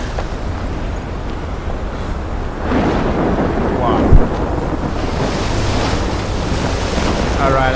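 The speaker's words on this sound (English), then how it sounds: "there is like a giant tornado spinning in the ocean" In the Life is Strange video game, a stormy ocean surges with crashing waves and roaring wind in a dense, continuous wash of noise, with a short thump partway through.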